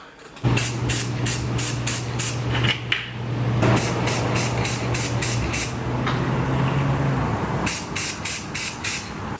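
Paint sprayed from a spray gun onto pieces in a garage, the paint warmed in roughly 40-degree weather; a hissing spray repeats in short bursts, with a steady low compressor hum under much of it.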